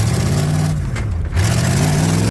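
A Ford 7.3 IDI diesel in a 1991 mudbogger truck revs hard and steadily, a loud close engine drone that dips briefly mid-run as it is power shifted without a clutch, then cuts off abruptly.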